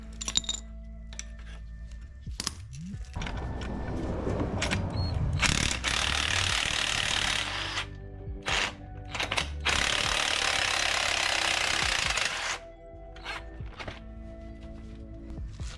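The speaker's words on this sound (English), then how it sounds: "then release the spring compressor" A ratchet clicks and a tool clinks at close range while a spring compressor is backed off a BMW 5 Series front strut, with the clicking broken by long bursts of loud broadband mechanical noise.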